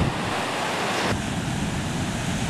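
Sea waves wash onto Chacra y Mar beach in a continuous broadband rush, with wind buffeting the microphone and a surge that drops off partway through; no one speaks.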